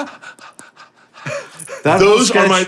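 Heavy, exaggerated breathing at the end of a comedy sketch, a string of panting gasps and breaths that grow louder and more intense toward the end, close to the microphone.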